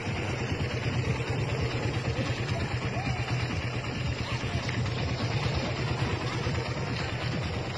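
A Raider motorcycle engine idles close by with a continuous, even rumbling drone that holds steady throughout.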